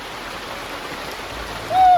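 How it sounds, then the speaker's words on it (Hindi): Heavy rain pours steadily as a continuous broadband hiss on the trek to Kedarnath, with a short tonal sound rising near the end. "बहुत तेज बारिश है, बहुत तेज बारिश है।"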